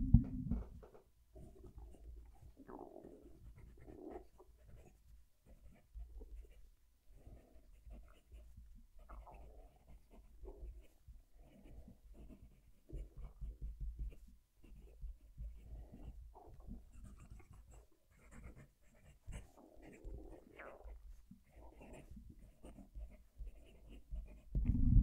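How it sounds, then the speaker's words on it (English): A German broad-nib fountain pen scratches across paper in soft, intermittent strokes close to the mic, with faint panting of a nearby dog in the background. "I'll move the mic, do some writing."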